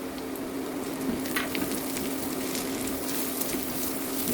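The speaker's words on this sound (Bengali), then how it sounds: "পেঁয়াজটা একটু ভাজা ভাজা হয়ে এসেছে। এখন আমি এখানে দিয়ে দিব কয়েক ফালি কাঁচামরিচ আর গোটা গরম মশলা।" Chopped onion fries in a pan with green chilies and whole garam masala, a steady close sizzle with faint crackles running throughout, no voices.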